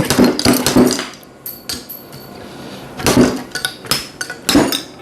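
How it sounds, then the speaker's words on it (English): Metallic slide-hammer knocks as a Kawasaki motorcycle fork tube is yanked to pull out its fork seal: several sharp clanking impacts in bursts, close and loud, with quieter rattling between. "you can use this like a slide hammer now and bring your seal out"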